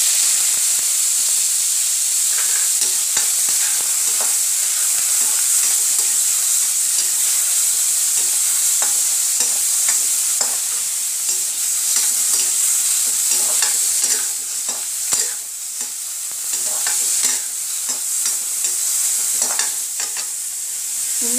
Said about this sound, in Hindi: अब इसमें थोड़ा सा पनीर भी फ्राई कर लेंगे हल्का सा।